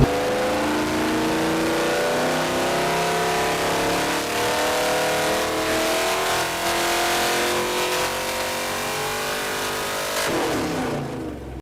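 A carbureted engine runs steadily with a rough, throaty idle, its pitch shifting slightly as the running is adjusted, loud and close throughout.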